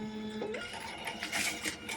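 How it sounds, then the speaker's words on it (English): A Dymo label printer feeding out a shipping label, a steady close mechanical whir and buzz of the print motor running for about two seconds with no talk. "how to use my Dymo label printer with each of the platforms"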